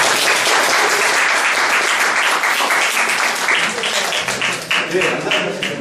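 A large audience bursts into dense, loud applause right away at a youth lecture event. The clapping holds steady before thinning slightly near the end.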